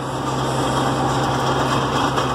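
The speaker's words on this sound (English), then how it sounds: "the little tractor's getting it done." A small tractor engine labors steadily while pulling a fully loaded Knight 500 bushel manure spreader uphill, a close, constant droning hum with a low steady tone and no pauses.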